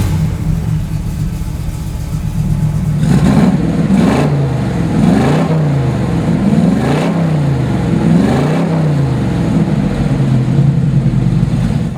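A 1969 Chevrolet Camaro SS 396 big block rumbles at idle, then is blipped through about five sharp revs, each swelling and falling back in a deep, rhythmic bark close by.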